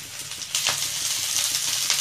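Capsicum goes into a hot pan with onion over high flame and is stir-fried for bread manchurian. A bright, hissing sizzle swells as it lands and then stays steady, close and fairly loud, with no voices.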